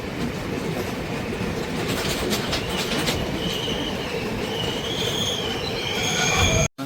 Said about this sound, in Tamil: பழைய ஸ்டேஷனால் தான் இப்போ ட்ரெயின் போய்கொண்டிருக்கு.